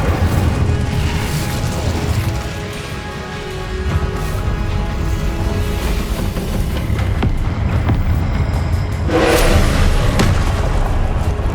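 Incendio and other spells cast in combat in the video game Hogwarts Legacy, a dense, loud roaring wash of whooshing blasts and rumbling impacts that continues without a break.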